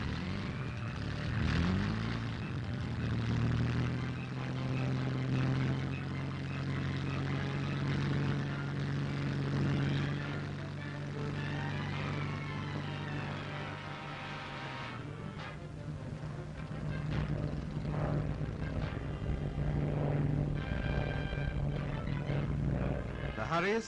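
Hawker Hurricane fighter planes taking off, their propeller engines droning in a steady, throaty hum that rises and holds, heard under a narrator's voice on a 1943 North Africa newsreel soundtrack.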